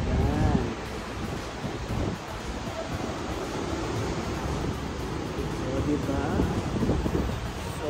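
Wind blows outdoors near Antipolo, a steady rushing with microphone buffeting and a brief louder gust at the start, continuous and fairly close.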